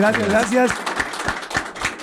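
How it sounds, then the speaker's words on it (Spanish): Applause for Estiben Handal at an interview: after a brief spoken line, a handful of separate, fairly close claps follow in an uneven rhythm. "Le damos un aplauso con mucho cariño."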